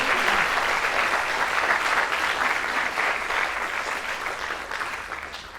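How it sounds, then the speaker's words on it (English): At the Night of Ideas 2026 opening event, an audience gives a hall-filling round of applause for performers. The clapping is steady and even and tapers off slightly as it ends. "I think we can give them another round of applause"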